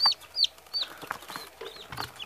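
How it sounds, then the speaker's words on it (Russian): Newly hatched chicks from an incubator on day 21, cheeping in several short, high-pitched peeps close by, with small rustling between calls. "Вот тут вывелись еще цыплятки."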